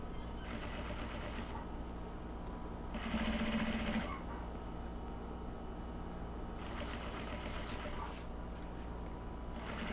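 A sewing machine stitches an inside-out fabric mask in short bursts of rapid, even mechanical whirring, with pauses and a faint steady hum between them.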